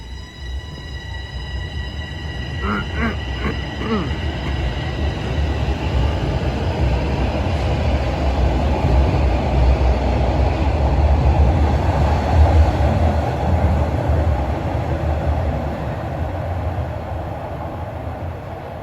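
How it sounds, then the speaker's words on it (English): TTC subway train at Highway 407 Station heading toward Vaughan Metropolitan Centre, a loud steady rumble of rolling cars with faint clicking wheels and a brief high squeal early on, sustained throughout. "The train is going to Vaughan Metropolitan Center on that side."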